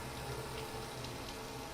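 A shower faucet runs with a steady, even rush of water, close by and alone, with no breaks in the flow.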